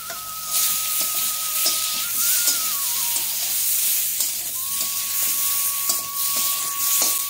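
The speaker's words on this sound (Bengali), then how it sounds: "এদিকে মাছটা ভাজা হচ্ছে" Steady sizzling of fish frying in a pan, a continuous bright hiss with faint clinks and a high tonal whine running through.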